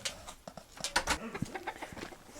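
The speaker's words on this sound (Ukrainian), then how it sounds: "Це курочка." A chicken clucks close by, giving a brief run of soft, irregular clucks and chirps.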